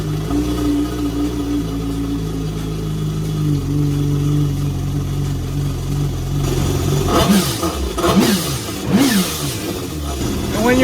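A jet ski engine idles steadily during flushing, its low hum close and loud, then revs up in two or three quick surges near the end before settling back.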